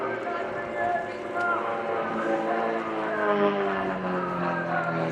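Unlimited-class aerobatic propeller planes fly at the RIAT 2015 air show at Fairford, their engine drone rising and falling in pitch while an announcer talks over it.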